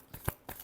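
Tarot cards shuffled by hand, a few quick riffling bursts close up, brief and fairly soft with short pauses between them.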